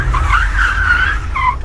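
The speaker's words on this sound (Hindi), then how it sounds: "तभी गाड़ी में जोर का ब्रेक लगा" Car braking hard at night, tires skidding with a long squeal that holds steady, then a second shorter screech, loud and close with a low rumble underneath.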